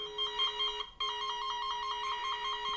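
A continuous electronic tone beeps steadily from a wire fault tester checking an insulated electric wire, cutting out briefly near the middle and then resuming, clear and close with no talking.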